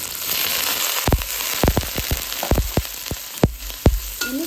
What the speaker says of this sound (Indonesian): Ini kita tumis sampai sedikit layu, setengah matang maksudnya